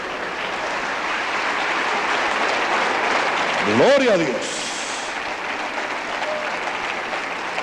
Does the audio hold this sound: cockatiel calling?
no